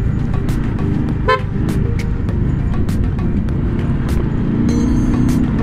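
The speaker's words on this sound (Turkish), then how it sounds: "Kornası acayip güzel." A motorbike horn gives short, bright toots over the steady roar of a running engine and wind.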